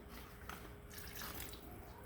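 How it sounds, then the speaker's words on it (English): Water is poured from a measuring cup into a plastic freezer meal bag holding pork chops, a quiet, steady trickling splash that runs for a couple of seconds with no talk. "And last, we want to add a cup of water."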